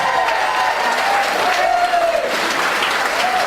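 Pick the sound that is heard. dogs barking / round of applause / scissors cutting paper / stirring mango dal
round of applause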